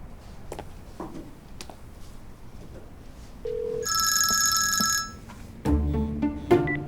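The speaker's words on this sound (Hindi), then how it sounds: "मैं फिर भी एक बार अप्पू को फोन करके कंफर्म कर देती हूँ।" An outgoing telephone call rings once with a bright electronic trill lasting about a second, set against quiet room sounds, and heavier clatter and thumps follow afterwards.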